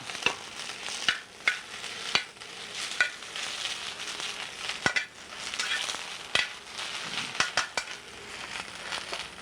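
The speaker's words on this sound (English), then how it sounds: "in a warm pan, just toss this around. All I want to do is wilt it." Fresh baby spinach tossed around a warm pan to wilt, giving soft sizzling and rustling with repeated sharp scrapes and clacks of a utensil against the pan at an uneven rhythm.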